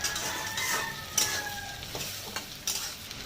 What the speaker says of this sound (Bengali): এখন পেঁয়াজটা ভাজার সময় কিছুটা টমেটো আমি দিলাম